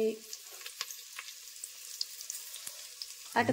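Cumin and other tempering spices sizzle and crackle in hot ghee for pongal, with peanuts added, a steady near frying hiss with scattered pops and a louder burst at the end.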